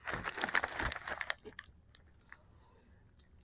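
Close, crisp crunching as a piece of freeze-dried meat is bitten and chewed, a dense burst of crackly chews that quickly tapers into a few softer sporadic crunches and near silence.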